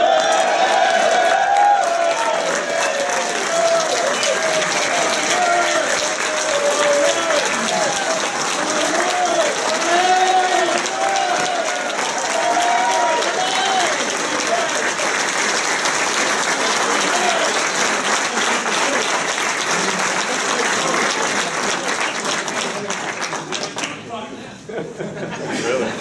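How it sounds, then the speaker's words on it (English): An audience at a soccer coach's retirement party applauds loudly and continuously for about twenty-five seconds, with some cheering and chuckles mixed in, before the clapping thins out near the end. "last but not least, deserves a round of applause."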